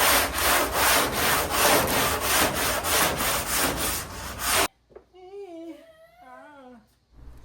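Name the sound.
sanding body filler on a 1969 Camaro panel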